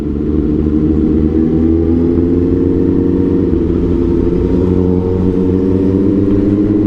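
A 750 motorcycle engine runs loud and close, a steady dense rumble holding a roughly constant pitch with slight wavering throughout, with no voices heard.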